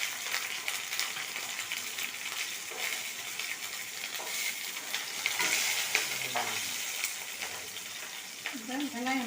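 Dried red chillies and garlic fry in hot oil in a kadai, giving a steady close crackling sizzle with stirring scrapes throughout, alongside a brief low voice-like sound near the end.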